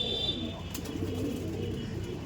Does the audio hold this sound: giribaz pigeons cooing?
yes